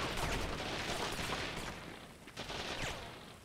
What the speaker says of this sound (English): Why are you guys shooting through the wall?